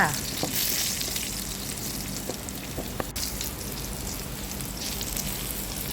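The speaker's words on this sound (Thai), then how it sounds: "ตั้งกระทะ ใส่น้ำมัน เอาเห็ดหอมกระเทียมรากผักชีลงไปผัดค่ะ" Shiitake mushrooms, garlic and coriander root stir-fry in hot oil in a pan, giving a steady close sizzle with occasional light clinks of a utensil, no talking.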